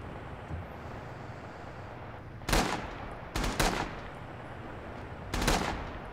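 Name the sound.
M1 Garand rifle shots in a WWII video game mod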